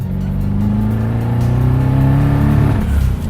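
An 800-horsepower twin-turbo V8 BMW E30 accelerates hard, its engine note steady and loud, rising in pitch as it pulls through a gear before easing near the end, with no voices over it.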